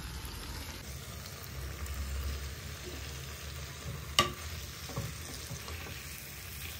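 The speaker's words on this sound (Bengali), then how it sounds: "দিয়ে আরও 2-3 মিনিট একটু ভেজে নেব মশলার সঙ্গে ফুলকপি, আলু, শিম" Potatoes, cauliflower and flat beans frying with spices in a pan, a steady, close sizzle with a few stirring scrapes and one sharp knock of a utensil partway through.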